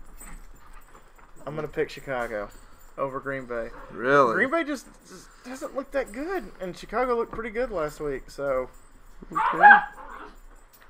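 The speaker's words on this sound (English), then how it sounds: "apologize for the barking dogs in the background" Dogs bark in the background of an NFL podcast recording, with the barks mostly buried under steady conversation and one sharper burst near the end.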